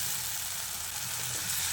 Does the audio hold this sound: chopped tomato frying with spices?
yes